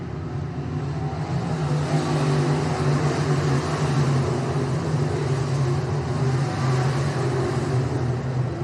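A race car on a short oval track comes off turn 4 into its final lap, a steady, loud engine drone that holds at a constant level throughout without a clear pass-by.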